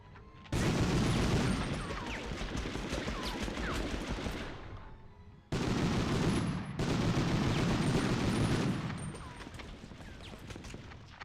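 Sustained automatic gunfire and distant explosions fill a Cold War video game firefight, loud and continuous with a brief break midway, no talking.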